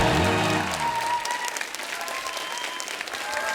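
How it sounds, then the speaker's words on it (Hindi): Studio audience applause on a Hindi comedy talk show, loud, dense clapping that takes over as a musical sting fades out, then continues steadily. "जोरदार तालियां हो जाए हमारे"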